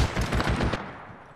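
Automatic gunfire in Apex Legends, heard as a close, loud burst of rapid evenly spaced shots lasting under a second, then a fading echo.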